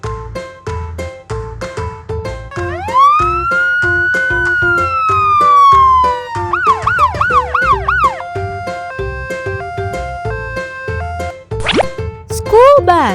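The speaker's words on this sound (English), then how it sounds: "Ambulance." An ambulance siren wails loudly and close, its pitch sweeping up and down in long and then quicker cycles, set among bouncy cartoon-style sound effects and tones.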